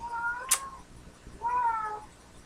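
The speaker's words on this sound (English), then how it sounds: "My cat is crying outside." A female cat in heat cries outdoors with two drawn-out, wavering yowls, moderately loud with a short gap between them, and a brief sharp click just before the first cry.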